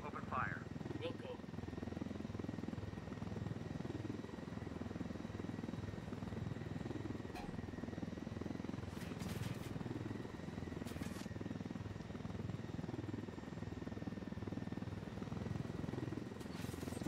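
A military helicopter in the video game Ghost Recon Wildlands drones steadily throughout, a constant whirring rotor and engine hum at moderate level, with a few faint brief clicks over it.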